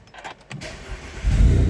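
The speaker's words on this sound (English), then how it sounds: "The next thing you will notice when you turn on the car" An Audi A4 B8.5 engine starts up: a few faint clicks first, then a low rumble that swells and settles into idle near the end, with no talking.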